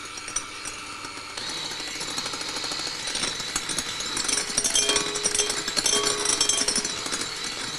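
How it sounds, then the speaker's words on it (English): A mixture in a bowl being whisked with an electric mixer while caster sugar is added gradually, a loud, steady buzzing whir that grows slightly more intense partway through, close and alone without talk. "I'm going to continue whisking, adding the sugar a little bit at a time."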